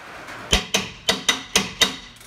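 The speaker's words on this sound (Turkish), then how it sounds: "Tam oturması için vuruyoruz" Six sharp metallic hammer blows, evenly spaced and close, strike a Fiat Marea brake part to seat it fully, each hit ringing briefly before the next.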